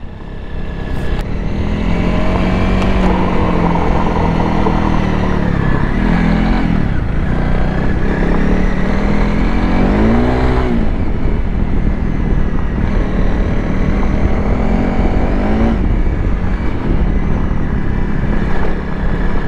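A Honda CRF 300 Rally motorcycle rides on rough, rocky ground, its engine droning loud and close throughout with rising and falling revs, and no voices are heard.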